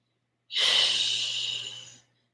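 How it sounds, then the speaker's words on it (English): Loud, steady breath drawn at the back of the throat in ujjayi style during vinyasa yoga practice, a single smooth hissing exhale of about one and a half seconds, close and alone with a faint low hum beneath. "If you do your ujjayi breathing at the back of the throat, if you just want to be an audible breather"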